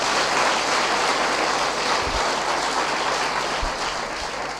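A church congregation claps loudly together at a worship service, a dense, sustained wall of applause that fills the whole stretch with no voices over it.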